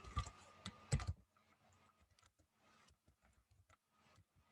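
Computer keyboard typing, a few loud keystrokes up front then a steady run of lighter, quick clicks close by in a quiet room.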